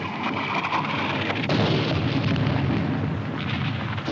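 Japanese artillery fire in a 1951 World War II drama, a dense, continuous barrage of booming, rumbling blasts that fills the whole stretch at close, loud range with no voices.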